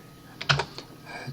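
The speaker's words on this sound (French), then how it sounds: "j'appuie sur la touche R de mon clavier" A few quick clicks on a computer keyboard while working in drawing software, a short cluster of crisp taps followed by a softer one, close-up and alone.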